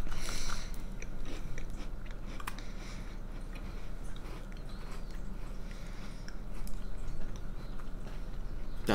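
Close crunching and chewing of crisp Filipinos biscuits from Spain, steady bites and mastication continuing throughout with no talking.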